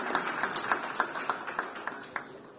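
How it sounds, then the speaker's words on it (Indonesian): Scattered audience applause at a political Q&A event with Ahok and young voters, a faint, thin patter of claps with a few sharper slaps, fairly distant and sparse throughout. "Boleh kita beri tepuk tangan buat Kak Afu."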